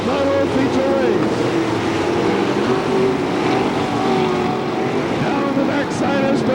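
Late model race cars roar around the dirt oval at Hamilton County Speedway in Webster City, Iowa, during a feature race, a continuous loud engine drone under a public-address announcer's voice.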